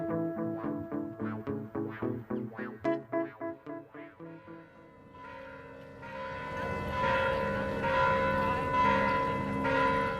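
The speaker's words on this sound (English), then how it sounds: "The bells are ringing here at Mission San Juan Bautista" Church bells at Mission San Juan Bautista ring out, first a steady run of evenly spaced strikes, then several bells clanging together in a fuller, louder peal that rings on.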